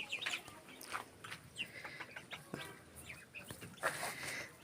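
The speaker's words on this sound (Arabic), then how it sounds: "جبنا كتاكيت صغننه لسه جديده" Tiny newly bought chicks peep in a rapid, overlapping stream of high chirps, close by and fairly loud, with no talking.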